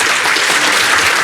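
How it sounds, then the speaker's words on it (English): Conference audience at a security talk applauding the presenter, a loud, dense, unbroken wash of clapping filling the whole brief moment. "Let's all give him a round of applause to Zaz."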